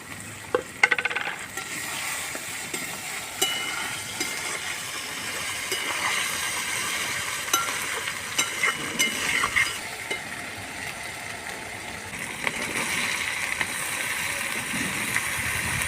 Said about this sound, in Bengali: এবার এর মধ্যে কেটে রাখা কাঁচা লঙ্কাগুলো দিয়ে দেব।